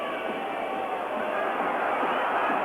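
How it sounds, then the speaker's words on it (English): A packed stadium crowd at a 1986 Argentina versus Italy World Cup football match keeps up a steady, loud mass of whistling and roaring in displeasure, sustained without a break. "the entire crowd whistling their displeasure"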